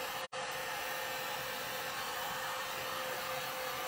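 A hair dryer blows over a wax-coated wooden box, a steady whooshing hum heard close and alone after a momentary cut-out near the start.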